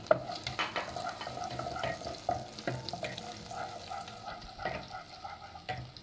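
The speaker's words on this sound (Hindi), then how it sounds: "लहसुन को सोते कर लेंगे हल्का सा" Garlic sizzles and crackles in hot oil, with scattered clinks and scraping stirs from a utensil against the pan, close by.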